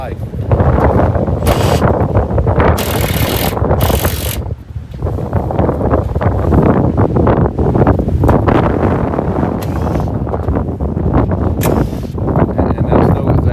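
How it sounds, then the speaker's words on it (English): Strong outdoor wind gusting at around 45 miles per hour, roaring and buffeting the microphone in loud, uneven bursts throughout, with someone speaking underneath. "I think there's 45 mile an hour wind gusts today"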